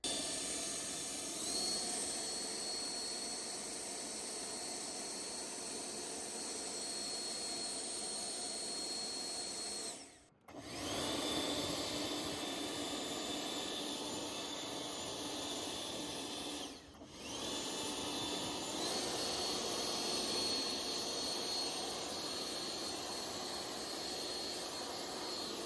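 A Yardworks 48V brushless AeroForce 2.0 leaf blower runs steadily with a loud, close, high-pitched whooshing roar, cutting out briefly twice before resuming at full power.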